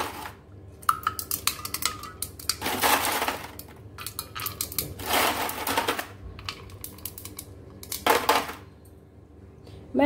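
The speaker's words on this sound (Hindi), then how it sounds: "तो बर्फ के टुकड़े डालेंगे।" Ice cubes dropped by hand into a lota of water, making several sharp clinking and cracking bursts in a quiet kitchen, close and fairly loud, with pauses between drops and no talking.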